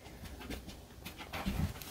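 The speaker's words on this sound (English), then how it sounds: "My other little dog just came to say hi." A small dog pants close by in quick, short, breathy bursts, a steady, rapid rhythm that holds throughout without any voices.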